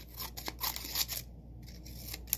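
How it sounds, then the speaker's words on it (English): Scissors cutting paper up close, a quick series of crisp snips and rustling slices in irregular rhythm, with a short pause before a few more cuts, quiet and without talk. "you can take a scissor and you can either work on cutting out a line"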